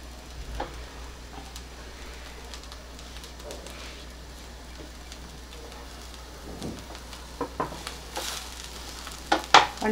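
Chopped cabbage hits a pan of frying onion and coconut, giving a soft steady sizzle with scattered clicks and stirring scrapes that grow louder near the end.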